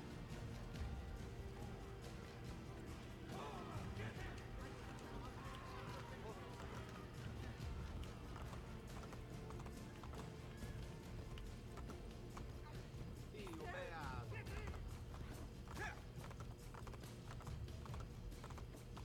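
Horse hooves clip-clop at a running pace in Assassin's Creed: Brotherhood on PS4, a steady rhythm running throughout beneath ongoing game ambience and murmuring crowd noise, with a few brighter mechanical clatters mixed in.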